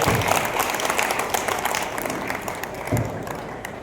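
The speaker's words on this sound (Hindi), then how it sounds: "बैट्समैन अगर ढंग का लगाओ तो एक बार ढंग की ताली बजा लो।" Audience applause at a live Hindi comedy poetry show during a Mahaveer Jayanti event, a dense steady roar of many hands clapping for several seconds, with cheering and a voice mixed in.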